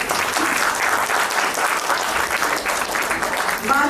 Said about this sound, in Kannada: ನಮ್ಮ ಪುಟ್ಟ ಮಕ್ಕಳಿಗೆ ಜೋರಾದ ಒಂದು ಚಪ್ಪಾಳೆ ಬರಲಿ